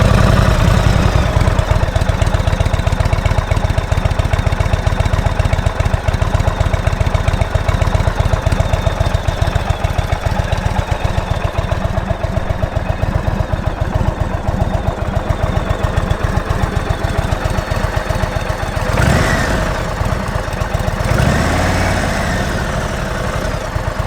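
An Indian Roadmaster 2020 motorcycle engine idles steadily and loud up close, a continuous low throbbing rumble with a brief swell near the end.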